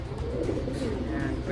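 A crested pigeon gives a soft, low cooing at close range, brief and murmuring, with a voice talking over it.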